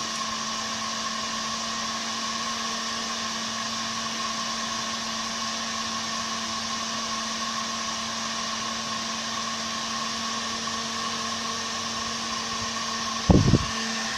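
A Bosch GHG 180 heat gun blowing hot air, giving a steady, even whooshing roar with a constant motor whine that holds unchanged throughout, ending in a brief clunk near the end.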